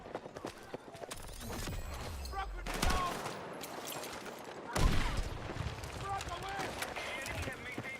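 Gunfire in the video game Battlefield 6 pops in rapid, scattered bursts with heavier blasts mixed in, set against a busy battlefield din while a voice talks over it.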